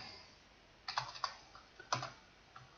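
Quiet clicks of a computer keyboard as a console command is typed for the DayZ mod, a few scattered clusters of keystrokes over a soft background hiss, with no talking.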